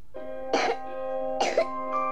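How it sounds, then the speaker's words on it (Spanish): Two harsh, close coughs break through soft background music in a cough syrup commercial, each a short burst about a second apart. "Cuando la tos entra a tu hogar"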